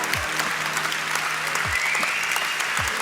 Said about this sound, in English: Let's first of all clap it up for all the youngsters in the room.